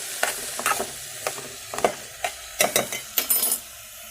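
Chopped ivy gourd curry stirred in a pan, a series of close, sharp scraping and clattering strokes of a spoon against the pan in an irregular rhythm over a faint sizzle.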